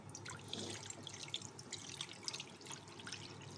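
Water poured into a small cooking pot for Maggi noodles, a steady close trickle and splash with soft dripping, no one speaking.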